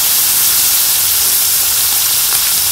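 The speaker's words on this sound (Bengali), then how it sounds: "মাছগুলো তো ছোটো ছোটোই ভাজা করছি" Small fish fry in hot oil with a continuous bright sizzling hiss that holds steady and close throughout.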